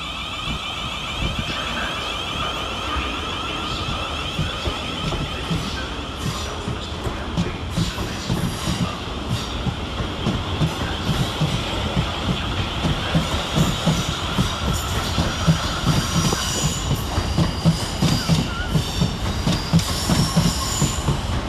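South Western Railway trains 450083, 450030 and 450107 departing a snowy Basingstoke station together, a continuous close rumble of wheels with rhythmic clacking over rail joints and high squeals rising and fading throughout.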